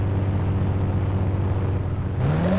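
KGF motorbike in an Indian bike driving game, a steady low engine hum at idle, then a rising rev near the end, with no talk over it.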